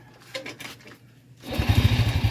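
A motorcycle engine starts up after a spark plug check, with a quiet stretch of light clicks and taps and then a loud, close, rapidly pulsing idle.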